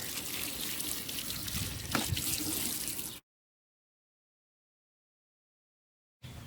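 Water pours steadily into a worm compost bucket for a few seconds with a splashing rush, then cuts to silence before a brief return.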